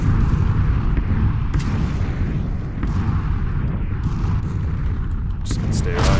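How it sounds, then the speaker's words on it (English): Missile strikes in the video game PUBG, a continuous rumbling barrage of distant explosions and booms with a few sharper bursts, loud and dense throughout, with a player talking over it. "There's a lot of explosions happening."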